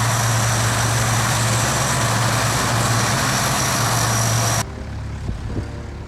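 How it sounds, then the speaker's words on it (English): Lockheed C-130 Hercules military transport converted into a firefighting air tanker, its loud, steady propeller-engine roar droning close by before cutting abruptly to a quieter background rumble. "Lockheed C-130 Hercules, a military transport aircraft adapted for firefighting with the MAF's modular airborne firefighting system"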